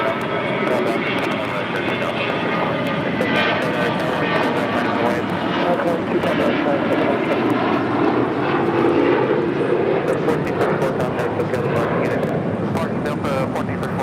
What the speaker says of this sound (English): 1434 taking off to Salt Lake City, Utah on an A321.